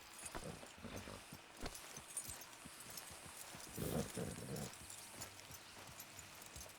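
A horse's hooves clip-clop at a steady walking pace in a Wild West open-world game, faint and close, with a soft snort partway through.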